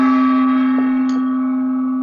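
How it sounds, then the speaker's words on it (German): A single gong struck to close a German art talk show rings out clearly and alone, a sustained metallic tone that slowly decays. "Also dann mache ich den Gong und ich verabschiede mich."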